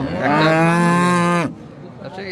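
A cow moos once, long and loud and close, at a busy cattle market in Tangail with Friesian cows and calves for sale. The call swells, holds for more than a second, then cuts off, leaving low market background noise.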